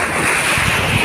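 Sea waves roll in at a beach resort, a loud, steady surf wash mixed with heavy wind buffeting the microphone, with no distinct breaks between waves.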